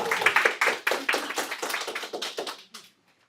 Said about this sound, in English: So let's give Dr. Thor a round of applause here.